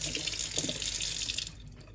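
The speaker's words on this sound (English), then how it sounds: "please make sure you give your mung beans a really good rinse as well" Mung beans being rinsed under a running kitchen tap, a steady loud gush of water splashing into a sink that continues throughout and thins out near the end.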